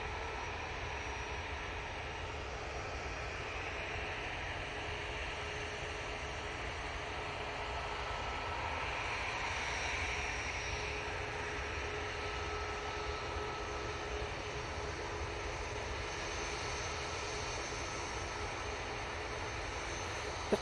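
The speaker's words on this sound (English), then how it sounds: "Singapore Airlines A350-900 now on short final for 23 right" A Singapore Airlines Airbus A350-900 jet on short final approach to runway 23 right gives a faint, distant, steady whooshing drone with a thin high whine, continuous and unchanging, with no voices.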